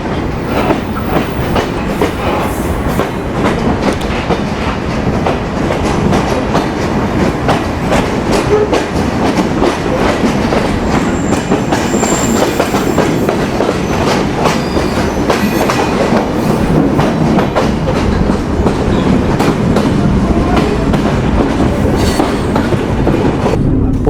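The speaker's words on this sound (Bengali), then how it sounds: "যশোর জংশন থেকে ট্রেনটি এবার পরবর্তী স্টেশনের দিকে যাচ্ছে" The Ruposhi Bangla Express heads out from Jessore Junction in Bangladesh toward its next station. Its loud, steady rumble and rhythmic clickety-clack of wheels on rail joints carry on without a break, with no voices.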